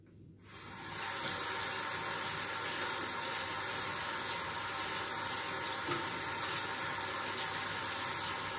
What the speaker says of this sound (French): Je fais ma vraie vaisselle et la vaisselle des enfants.